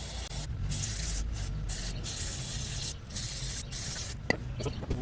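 Cleaner sprayed in repeated hissing bursts onto a Troy-Bilt Colt FT tiller carburetor, close and fairly quiet, the spurts separated by short pauses.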